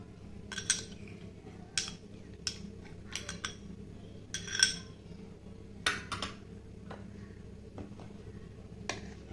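A spoon stirring chaat masala and yogurt into a kidney bean and wheat chaat in a bowl, irregular sharp clinks and taps against the dish scattered across a quiet background.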